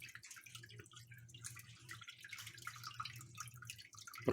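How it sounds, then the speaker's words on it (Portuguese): Wort drips from rinsed malt into a pot during home brewing, a soft steady patter of drops and trickling running alone throughout. "deixando escorrer tudo lá para dentro da panela."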